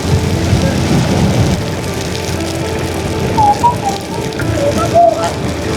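Heavy rain pours steadily during a motorcycle ride on the road from Manila to Bicol, a dense roar of water and wind noise that stays loud throughout, with faint muffled voices underneath.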